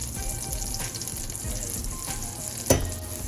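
Shrimp sizzle in heated butter in a pan, a close, continuous crackling fry with a sudden louder pop and hiss near the end as food shifts in the pan.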